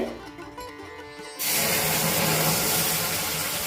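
Milk poured into roasted semolina (rava) in a pan for a milk sweet, starting abruptly as a loud, steady hissing sizzle that continues to the end.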